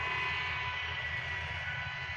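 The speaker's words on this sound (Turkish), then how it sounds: "Şöyle bakın makine ekiyor." Tractor planting corn in a field, a steady droning engine rumble running continuously and fairly loud throughout, with no talk.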